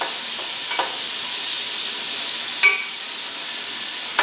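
Ground meat for chili sizzling steadily in a hot pan, with a few brief scrapes and clinks as it is stirred and broken up, close and loud with no talking.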